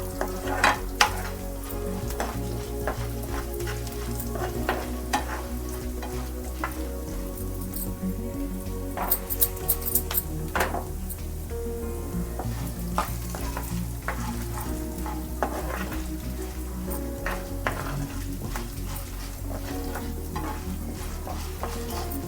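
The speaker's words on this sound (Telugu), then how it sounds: "కొంచెం కలర్ మారే వరకు వేయించుదాం." Stuffed bitter gourd fries in an oil-filled pan, with a steady sizzle, crackle and pops throughout and occasional stirring scrapes.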